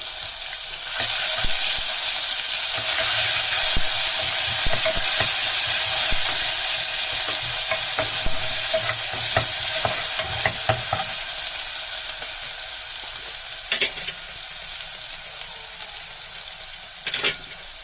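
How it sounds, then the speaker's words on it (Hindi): Cumin seeds and ginger garlic paste fry in oil over a low flame, a steady loud sizzle and hiss lasting throughout, with occasional stirring taps and scrapes close by. "और ये जीरा फ्राई हो रहा है।"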